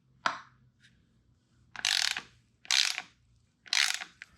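A wrench ratcheting as it loosens a bolt and nut on a Marzocchi Bomber bicycle suspension fork, a single click followed by three short bursts of rapid metallic ratchet clicks, close and clear.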